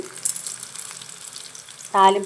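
Mustard seeds, tempering spices and dried red chillies sizzle in hot oil for semiya upma, a steady soft frying hiss close by, with a brief brighter tonal sound near the end.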